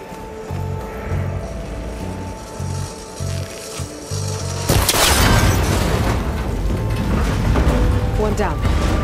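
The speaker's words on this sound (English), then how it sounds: "It should break if I shoot it." A cable connector is shot and bursts in Horizon Forbidden West, a loud explosive boom with a crackling, rumbling tail that follows a stretch of low rhythmic mechanical thumps.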